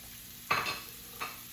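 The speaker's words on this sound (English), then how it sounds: "I'm going to stir this and let it stir fry for about 10 minutes" Cauliflower rice with broccoli and carrots being stirred in a hot pan, two short scraping stir strokes over a faint steady sizzle, close by and without talk.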